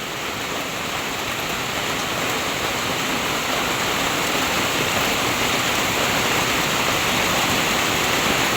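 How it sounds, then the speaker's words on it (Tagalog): Heavy rain pours steadily, a dense, continuous hiss and rush that stays loud and even from start to finish with no voices. "Lakas po ng ulan."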